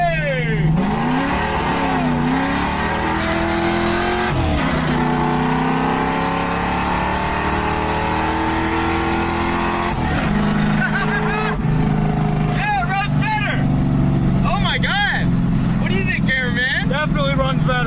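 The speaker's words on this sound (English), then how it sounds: "it's still a stock 302 with a tiny supercharger on it, but it does run better" A 1965 Mustang with a stock 302 engine and a small supercharger drives along. The engine drones loudly and steadily, with shifts in pitch as it accelerates and revs, and talk runs over it throughout.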